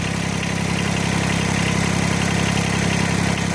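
A Kubota BX25D compact tractor engine idling with the throttle still raised, a steady, loud, slightly rough drone that runs the whole time with no talking.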